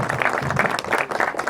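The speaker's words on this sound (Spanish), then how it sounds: "Por favor, un aplauso para ella" An audience applauds the presenter's goddaughter, an art student, in a short burst of close, lively clapping.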